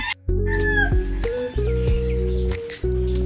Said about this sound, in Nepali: कस्तो खालको भाले यो चाहिँ?